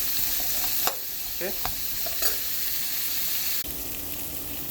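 Vegetables for chicken noodle soup sizzle in a pan with a steady, close frying hiss and a few scraping stirs, and a voice speaks one brief word.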